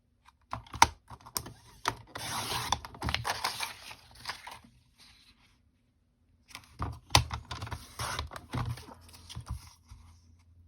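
A paper trimmer cuts sheets of cardstock for card making, in two bursts of rapid clicking and sliding blade strokes separated by a quiet pause. The sound is close and moderately loud.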